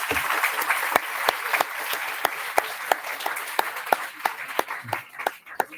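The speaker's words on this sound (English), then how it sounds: "you can applaud them because they're new" Applause at a student council opening ceremony for new student journalists, a scattered room of clapping with sharp individual claps standing out and trailing off unevenly near the end.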